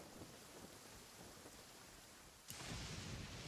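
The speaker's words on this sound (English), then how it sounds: "Thunder speaks the will of the Almighty Shogun." A steady hiss of heavy rain in a Genshin Impact thunderstorm, with a sudden crack of thunder near the end that swells the downpour louder, no voices present.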